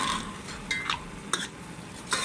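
Mutton being stirred and mixed with red chilli, turmeric and salt for balti gosht, giving soft scraping and wet mixing sounds with a few sharper utensil clinks against the pot, fairly quiet and with no talking.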